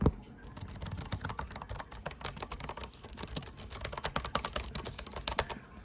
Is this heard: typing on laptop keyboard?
yes